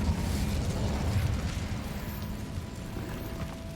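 The Incendio fire spell cast in the game Hogwarts Legacy inside an abandoned mine, a loud fiery burst with a deep rumbling whoosh that peaks early and then tapers into a crackling roar.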